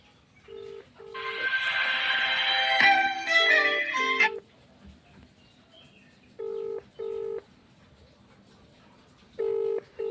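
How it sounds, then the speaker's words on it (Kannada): An outgoing call on an Airtel SIM rings on a phone, first with a burst of bright melodic tones, then with short, evenly spaced ringback beeps separated by quiet pauses. "ಇವಾಗ ಇಲ್ಲಿ ರಿಂಗ್ ಆಗ್ತಿರುವಂಗೆ ಕೇಳಿಸ್ತಿರುವಂಥದ್ದು"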